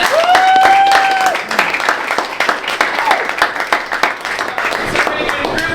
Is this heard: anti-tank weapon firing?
no